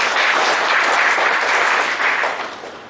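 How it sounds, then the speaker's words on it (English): Loud, dense applause from an audience after a presentation on audit documentation, sustained clapping that begins to fade near the end. "Big round of applause, ladies and gentlemen."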